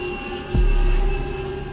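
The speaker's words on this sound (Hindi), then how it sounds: "गंगा और ब्रह्मपुत्रा डेल्टा में एक हवाई जहाज के जैसी आवाज़ें अक्सर सुनी जाती रही" An airplane-like drone, reported as a mysterious sound in the Ganges-Brahmaputra delta, holds a steady tonal hum and then swells into a loud, deep rumble partway through.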